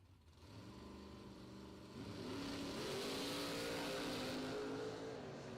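A Camaro and a Mustang launch side by side in a bracket drag race, their engines climbing from a rumbling idle into a loud, rising full-throttle roar that holds at a high pitch, with no voices over it.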